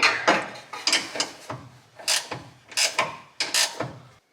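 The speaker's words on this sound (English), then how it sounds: "Got any ratchet wrenches, Jay?" Ratchet wrench tightening grade 8 Torklift camper tie-down hardware on a 2022 Chevy Silverado High Country, heard as a series of short, close metallic ratcheting bursts in an uneven rhythm, with no talking.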